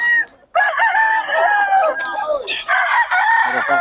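Roosters crow loudly and close at a Bocaue poultry market, several overlapping cock-a-doodle-doo calls with some clucking, filling the whole few seconds.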